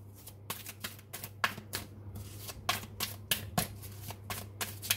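Tarot cards shuffled by hand close up, a brisk series of crisp riffling slaps and flicks in uneven bursts, with a low steady hum in the background.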